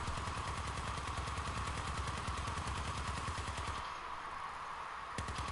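A Gatling gun on a vehicle in the video game Crossout fires a steady, fast rattling stream of shots, loud and continuous, easing off slightly near the end.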